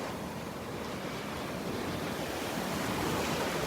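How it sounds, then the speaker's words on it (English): Ocean surf rolls in at Delnor-Wiggins beach, a continuous loud roar of churning waves with wind buffeting the microphone. "You can see the waves swirling around it."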